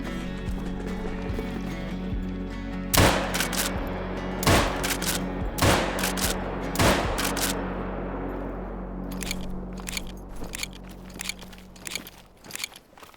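Several loud rifle shots from the Maraude ring out in theHunter: Call of the Wild as a gray wolf pack is engaged, spaced irregularly over a game ambience, followed by lighter clicks and faint rustling near the end.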